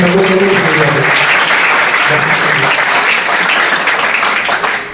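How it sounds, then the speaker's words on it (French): An audience at a talk on healing and Torah sources applauds the Rav in a loud, dense burst of clapping that stays full and even throughout before easing slightly at the very end. "j'aimerais encore une fois qu'on applaudisse le Rav pour ça"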